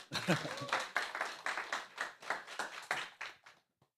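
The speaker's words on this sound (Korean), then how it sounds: "많은 박수 주세요" A small seminar audience at a K-beauty and health business event claps in a steady rhythmic beat, moderately close, for about three and a half seconds before stopping.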